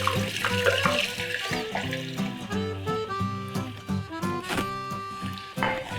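A whole bottle of red wine poured into a pot of garlic to deglaze, giving a continuous, close gurgling, glugging stream with small knocks and splashes.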